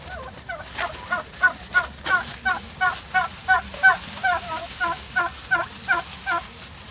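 A group of turkeys gobbling at a drinking trough in a rapid, rhythmic series of warbling calls, close and fairly loud, repeating steadily over a low background.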